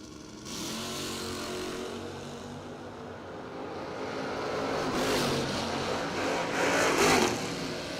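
A G-body Buick Regal and a Fox Body Mustang launch side by side at a bracket drag race. Their engines roar in a broad, rising wash that swells to a peak and then carries off into the distance.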